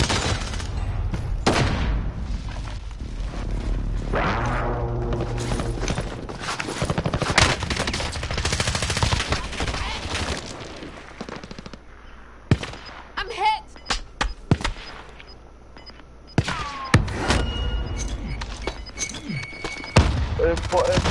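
Heavy gunfire fills a PS4 video game, with bursts of automatic shots and dull booms, dense at first and then thinning into scattered single shots and thuds. Voices talk under the shooting.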